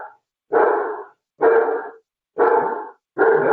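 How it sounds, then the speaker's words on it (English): A dog barks loudly and close during an online webinar call, four evenly spaced deep barks, each about half a second, with no talk over them. "your dog is too loud"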